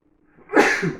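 A single close, sharp sneeze bursts out after a brief intake of breath, loud and bright, trailing off quickly.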